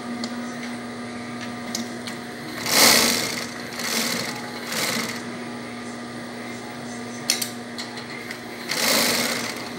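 Zoje industrial flat-bed sewing machine running single-needle stitching, with several loud bursts of motor whir and needle clatter over a steady hum, heard up close with no talking.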